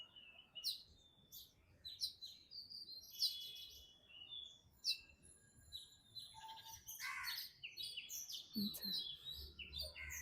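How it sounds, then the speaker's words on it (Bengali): A sparrow perched amid tall city buildings gives repeated quick, bright chirps and tweets, faint and somewhat distant, in short irregular bursts over quiet background. "চড়াই পাখিটা এখানে বসে করতেছে দেখি"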